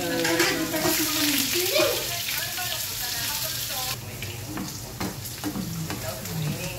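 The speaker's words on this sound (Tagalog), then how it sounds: "Isunod natin na iprito yung carrots" Carrots browning in oil for beef and broccoli give a steady, fairly loud sizzle with the scrape and clatter of stirring in the pan, continuing throughout with brief faint voice in the background.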